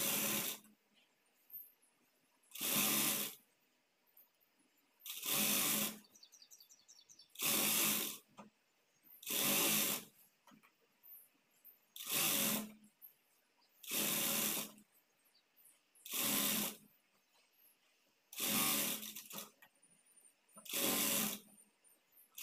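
A sewing machine stitching a blouse lining runs in short bursts of about a second each, roughly ten separate runs with quiet pauses between, moderately close.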